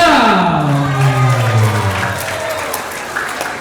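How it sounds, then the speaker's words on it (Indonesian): Audience applause at a talk show, steady crowd clapping throughout, with a sliding tonal sweep at the start fading out as the clapping carries on. "beri tepuk tangannya"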